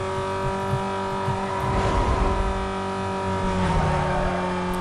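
Steady, droning car engine in Need For Speed: Most Wanted, a taxi held at high revs with a constant hum and slight swells as it speeds along, alone without talk.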